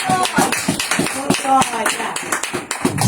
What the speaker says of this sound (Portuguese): Dê las palmas a Dios en esta noche